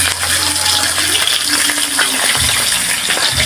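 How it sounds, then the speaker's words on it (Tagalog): Hot cooking oil spits and crackles in a frying pan as food fries, a steady dense sizzle with a low rumbling undertone that shifts partway through. "Medyo matalsik po talaga yung mantika."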